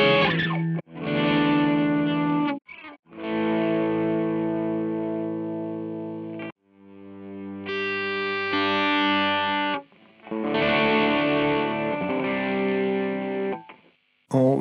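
Distorted electric guitar chords through a volume swell effect via an iPhone amp app ring out in separate phrases, each fading in smoothly and sustaining, with short gaps of near silence between them.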